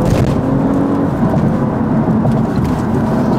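An Audi A5 climbs a winding hill road, its engine giving a steady low rumble over broadband road and wind roar, loud and continuous with no voices.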